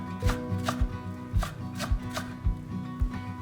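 Knife chopping deodeok root into thin slices on a cutting board, a steady series of sharp close taps roughly every half second, alone with no talk.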